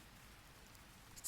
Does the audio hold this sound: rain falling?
yes